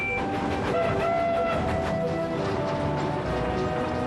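Thomas and Friends engine James pulls into Knapford Station with a steady rumbling rail roar, clattering wheels and sustained horn-like whistle tones, loud and close throughout.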